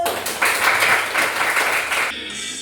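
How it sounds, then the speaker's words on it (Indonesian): A class of primary school children claps together in a lesson, a loud, close burst of rhythmic applause in pulsing waves that stops abruptly near the end. "kita tepuk tangan dulu"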